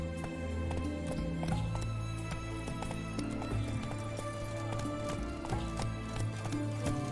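Roach, the horse in The Witcher 3, gallops steadily with rhythmic hoofbeats under a dense game music score, and a brief whinny rises partway through.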